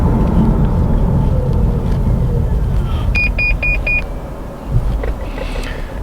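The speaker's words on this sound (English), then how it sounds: "That's the collision avoidance beeping at me for getting too close to the car in front." Collision avoidance warning in a Nissan Leaf, a quick series of four clear electronic beeps from inside the cabin, sounding over steady road and motor rumble while driving in traffic.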